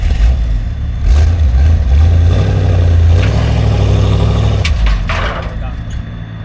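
A police car's engine revs under load while being moved, the clutch badly worn; a steady low rumble swells and holds for several seconds before easing off, close and loud, with people talking nearby.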